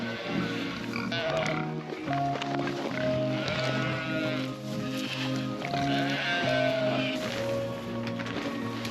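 Several sheep bleat repeatedly under woodland trees, with pigs grunting and oinking among them and close, overlapping farm-animal calls throughout; faint talk in the background.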